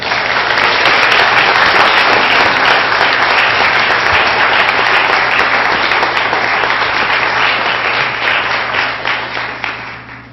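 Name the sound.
applause for spelling bee spellers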